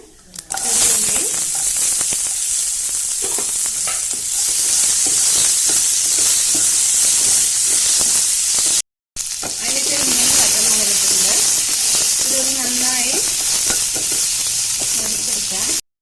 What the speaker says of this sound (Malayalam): ഇത് നന്നായി വഴറ്റിയെടുക്കുക